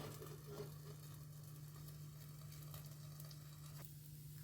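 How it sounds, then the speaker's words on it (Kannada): Dosa batter frying in ghee on a covered pan, giving a steady, even sizzle that runs unbroken throughout, close and moderately loud with a constant low hum beneath and no voices. "ಇವಾಗ ಇನ್ನೊಂದು ದೋಸೆ ಹಾಕ್ತಾ ಇದ್ದೀನಿ ಮತ್ತು ಮೇಲಿಂದ ಒಂದು ಚಮಚ ತುಪ್ಪ ಹಾಕಿಬಿಟ್ಟು ನೀಟಾಗಿ ಮುಚ್ಚಿಬಿಟ್ಟು ಬೇಯಿಸ್ಕೊಳ್ಳಿ"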